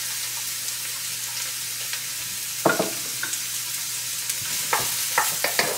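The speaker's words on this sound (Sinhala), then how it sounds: "මම මේ සෝතේ කරගන්න ලුණු ටිකක් දානවා" Onions sauté in olive oil in a pan for a Sri Lankan kale mallum, giving a steady close sizzle with occasional clinks and scrapes of stirring.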